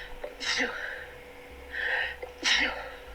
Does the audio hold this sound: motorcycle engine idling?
no